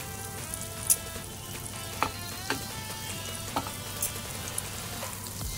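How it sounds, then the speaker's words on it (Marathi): Fish fried Malvani style in a pan gives a steady close sizzle and crackle, punctuated by a few sharp pops and spatula taps, with no voices. "एका साईडने चांगली भाजली की नंतर दुसऱ्या साईडला टाकायची"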